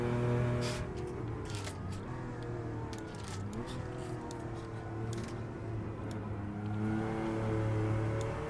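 A classic Porsche 911 drives along with a steady, close engine drone whose pitch rises and dips as it runs, with no talking.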